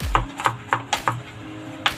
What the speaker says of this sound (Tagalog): binalatan at paliliitin lang po natin yung bawang sa panggisa